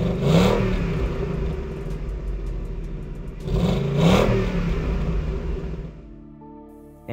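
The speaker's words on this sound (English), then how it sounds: "First is gonna be a clip of your stock Mustang." A stock Ford Mustang exhaust revs twice, each rise swelling to a loud roar and falling back to a rumbling idle, close and without talk.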